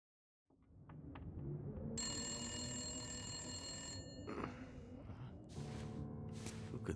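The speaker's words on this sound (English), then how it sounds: "someone's answering the phone" An old telephone bell rings inside a room in the survival video game The Long Dark, loud bright repeated trills that start after a moment of silence and then cut off.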